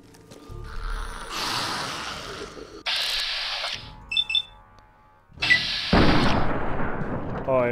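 Gunshots in Fallout 3, loud bursts of weapon fire and impact blasts separated by brief quiet gaps, with a high electronic chirp in between and a heavy, booming blast near the end.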